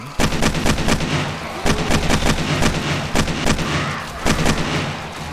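Rapid bursts of gunfire from shooting slow daytime zombies in 7 Days to Die on Xbox Series X, coming in loud, evenly spaced clusters of sharp shots with short pauses between volleys.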